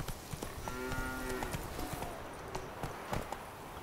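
Galloping hooves of a horse in the video game The Witcher 3, a steady rapid clip-clop rhythm that runs through the whole stretch at moderate level, with no speech over it.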